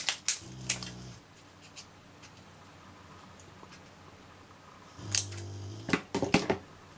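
A piece of foam-backed card being cut up close, with a short burst of crisp cutting sounds at the start and another near the end, and near silence between.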